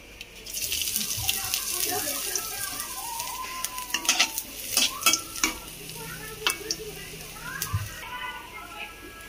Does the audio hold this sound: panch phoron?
yes